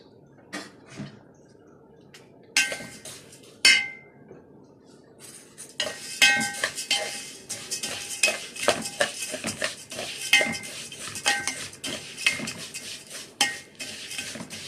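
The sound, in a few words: stirring vermicelli frying in oil in a pot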